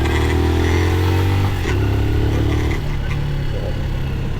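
QJ Motor SRV 200 motorcycle engine held at high revs, a loud, close, steady roar with the pitch stepping down as it eases off, with no talking.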